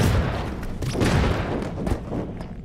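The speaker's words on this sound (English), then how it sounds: "Where's that explosion coming from?" Explosions and gunfire in a video game, a dense barrage of booming blasts and rapid shots rolling continuously, loud and close, with scattered sharper impacts.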